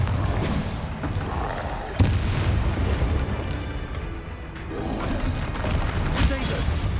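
Blasts from the Bombarda spell in Hogwarts Legacy: a heavy, booming explosion with a sharp crack around the two-second mark, followed by rolling rumble and a second surge near the end, loud and continuous throughout.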